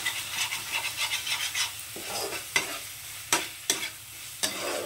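Spices with cumin and coriander powder stir-fried in oil over low heat, a soft steady sizzle under repeated scraping and stirring strokes, with several sharper spoon knocks against the pan.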